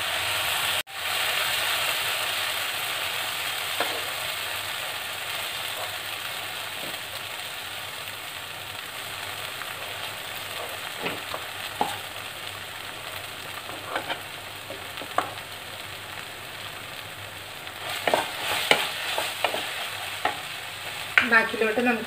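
Tomato and onion sauté in a pan under a soft, continuous hiss of frying, broken by scattered scrapes and clacks as a spoon stirs them, with the stirring growing busier near the end. No one speaks.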